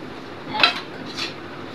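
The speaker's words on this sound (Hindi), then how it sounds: "बर्तन असी धो रहे हैं, हो गया।" Dishes, pots and cutlery are washed nearby, two bright metallic clinks of utensils against cookware over a low steady background, with no talking.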